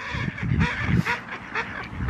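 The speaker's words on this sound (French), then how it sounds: "Oui, c'est les canards." Ducks calling near water outdoors, a few honking, quacking calls close by over steady background noise, with no talk.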